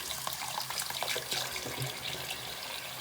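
Hot water runs fast and steadily from a kitchen tap into a sink, a continuous close hiss and splash with no speech over it.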